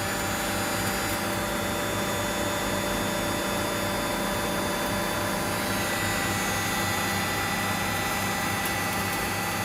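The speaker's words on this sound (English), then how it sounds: "You can hear the bits of stuff falling down inside it and rattling around like ting-ting noises." A Miele Novotronic F63 washing machine gives a steady, loud mechanical whirr with a continuous broadband roar, small bits of debris rattling and clinking inside the spinning drum throughout.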